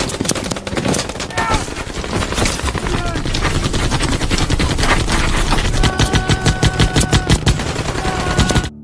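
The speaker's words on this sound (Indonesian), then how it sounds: "rentetan tembakan senapan mesin musuh menembaki mereka tanpa henti" Sustained bursts of machine gun fire, loud and dense, with rapid rhythmic volleys toward the end amid a chaotic battle din.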